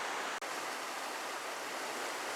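A cold mountain river rushes through steep, rocky Cimarron Canyon, a loud, continuous broadband roar of flowing water heard up close with a single brief dropout near the start.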